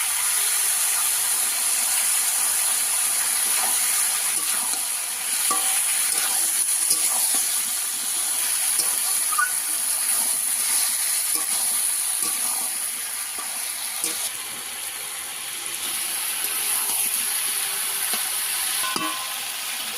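Steady, loud sizzling and hissing from a frying pan of ridge gourd posto after a little water is added, continuous close-up crackle with occasional stirring clinks.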